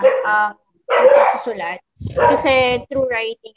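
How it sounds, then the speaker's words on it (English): A dog barks and yips close by in short rhythmic bursts, mixed in with a person talking. "I hope you excuse my dog"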